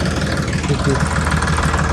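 A tractor engine idles steadily throughout, low, rumbling and continuous, with voices faintly mixed in beneath it.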